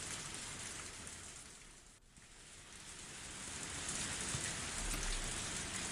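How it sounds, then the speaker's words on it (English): Steady rain falls continuously, a dense broadband hiss of drops on surfaces, briefly dipping near the two-second mark before swelling slightly louder toward the end. "Only the sound of rain filled this tense moment"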